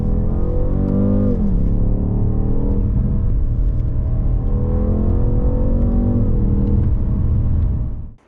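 BMW M550i G30 sedan driving down a mountain road, its engine humming and rumbling steadily with rising and falling revs, loud and continuous before fading out at the end.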